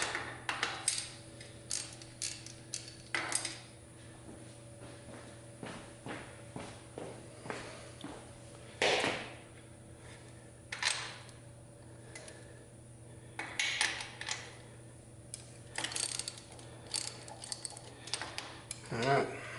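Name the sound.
loosening bolts with a wrench during cam install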